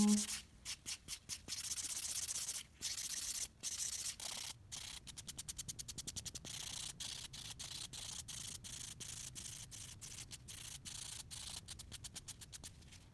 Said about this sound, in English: And we're just gonna take a buffing block. Make sure it's as smooth as possible.